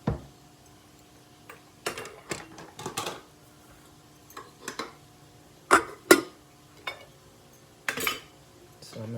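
Dishes and cutlery clink and clatter as they are put away in a kitchen, with scattered sharp knocks and rattles separated by quiet pauses.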